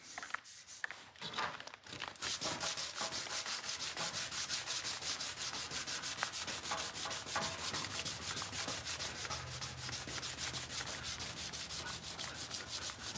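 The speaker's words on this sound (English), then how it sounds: "I'm sanding the shit out of it" After a brief quiet start, steady hand sanding of a Volkswagen Beetle's clear coat rasps in quick, even strokes, loud and near, continuing without pause.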